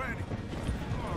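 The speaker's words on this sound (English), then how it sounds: "My horse is too slow for this." A horse gallops in the Red Dead Redemption 2 video game, its hooves drumming in a quick, uneven clip-clop beneath ongoing game noise and voices.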